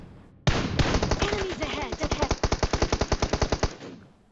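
Rapid automatic gunfire in the mobile battle-royale game PUBG Mobile, a dense burst of some two dozen sharp shots in fast even rhythm over about three seconds, loud and close.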